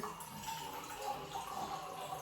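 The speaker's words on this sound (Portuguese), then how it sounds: "vamos pegar um pouco de água do filtro" Water is poured from a household water filter into flour and salt for hunter's bread dough, a steady, soft splashing trickle running alone for a couple of seconds.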